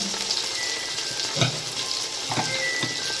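Tomatoes tipped into a pan of frying small shallots give a steady, close sizzle, with a few soft stirring clacks and brief bursts as the pieces land in the hot oil.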